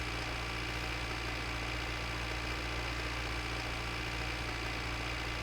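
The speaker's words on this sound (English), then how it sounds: "I hope you like endless tractor sounds, because that's what we've currently got." A tractor engine idles in the video game My Winter Car, a steady low rumble that continues unchanged and fairly faint throughout, with no talking.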